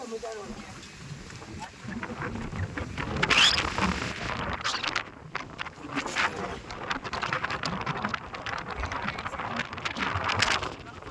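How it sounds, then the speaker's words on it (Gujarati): Wind gusting at a riverside spot, a steady broadband rush buffeting the microphone throughout while people talk nearby. "પવન તો જો આવે છે અહીંયા."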